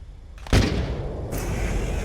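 Missile launch in the video game Metal Gear Solid: The Twin Snakes: a sudden loud blast followed by a sustained rushing roar that carries on to the end.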